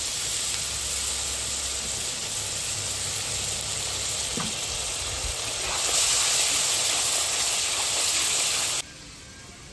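A paste of ground chilli, coriander and cumin sizzles loudly in a hot pan after a splash of water, a dense steady hiss that swells briefly before cutting off abruptly near the end.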